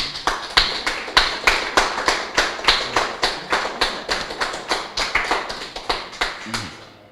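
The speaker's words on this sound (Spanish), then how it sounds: "Así que démosle un aplauso a nuestro Dios vivo." A church congregation claps in steady unison, sharp evenly spaced claps about three per second, fairly close and continuing without talk until fading at the end.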